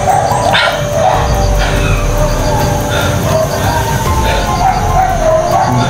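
Dogs bark repeatedly in a video game over a dense, rumbling game soundtrack, the barking blended into steady background noise and effects.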